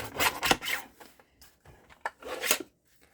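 A paper file folder is trimmed along its bottom edge, producing a few short rasping, scraping strokes close up, separated by quiet gaps.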